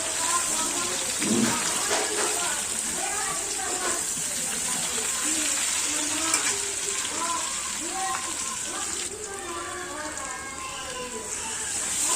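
Vegetables fry in a pan with a spice mix of ginger, mustard, cumin, coriander, chilli powder, turmeric, sugar and salt, giving a dense, steady crackling sizzle under a voice speaking throughout.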